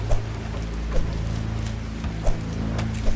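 Rain in the video game Vector Zone falls as a steady hiss of drops over a low constant hum, with a few soft thumps spaced through the few seconds and no voices.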